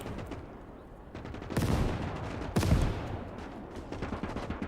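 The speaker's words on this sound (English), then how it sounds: "Let's throw a grenade." A grenade goes off in Call to Arms Gates of Hell multiplayer on the Eastern Front, two sharp, loud explosive bursts about a second apart standing out over distant crackling gunfire.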